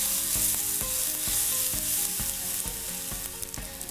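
Noodles pan-frying in a pan over moderate heat, a steady broad sizzle with repeated soft stirring knocks and scrapes from chopsticks, close and continuous with no talking.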